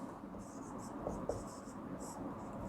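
Chalk or marker writing on a classroom board during a Sanskrit lesson, faint, scratchy strokes with a couple of small taps, heard over a quiet room hum.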